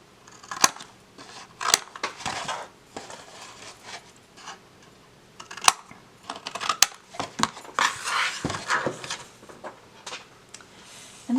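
Scissors trimming the ends of recycled craft storage made from bin materials, with sharp close snips in an irregular series, some single cuts and some quick bursts, plus rustling of the material between them.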